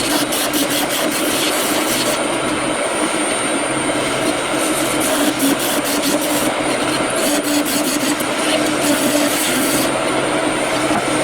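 Rough turning of a three-sided tool handle on a lathe, a loud continuous grinding rasp of the cutter against the spinning workpiece over a steady motor hum, with rhythmic high scraping pulses coming and going.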